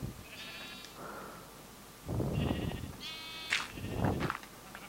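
Sheep bleating in the video game Minecraft on PS3, several short nasal bleats at moderate volume over a steady background hum and soft game noise, some overlapping.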